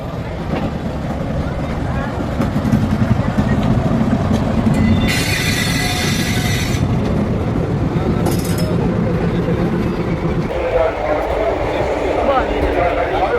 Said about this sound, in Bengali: ট্রেন একদম রাইট টাইমে ছাড়লো।